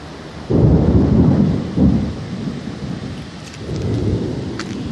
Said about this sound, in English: I love a thunderstorm.